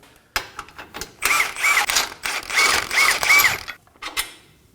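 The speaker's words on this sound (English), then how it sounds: "And now we can remove the bolt." Bolt on a Nissan Armada front lower control arm being worked loose with a ratcheting power tool, close and loud, in several rapid whirring bursts with brief pauses between them, no talking.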